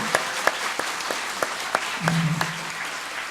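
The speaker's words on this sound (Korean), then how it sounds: "한 번 더 뜨거운 성원의 박수를 부탁드리겠습니다." Church audience applauding after a Thanksgiving cantata by a Zion choir, a moderate steady wash of clapping with a few sharper claps standing out and a brief tonal hum midway.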